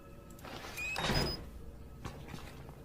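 A door in the video game Outlast slides or swings with a brief whooshing scrape and a soft thunk, heard at moderate distance over a low ambient drone, with no talking.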